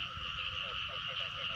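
A small male frog croaks in a ditch running through a rice field, its repeated short calls rising over a steady drone of insects and low rumbling noise.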